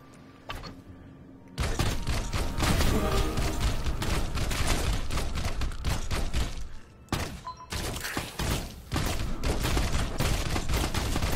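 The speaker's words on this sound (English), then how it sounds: "Okay, yeah, you're shooting at me." Gunfire in the video game Pixel Privateers, with rapid bursts of shots aimed at the player, loud and nearly continuous after a short quiet start, with one brief break midway.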